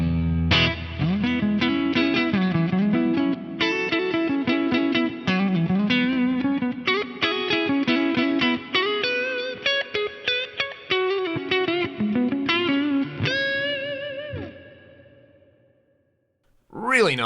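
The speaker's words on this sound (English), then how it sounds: "this is just the sound of the amp, the cab, no cuts in the cab block, and the reverb that I'm using, which is the South Church reverb." Electric guitar through a Fractal FM3 amp and cab model with South Church reverb, playing a continuous, loud melodic line of picked notes with sustained chords, ending on a long ringing decay into a reverb tail.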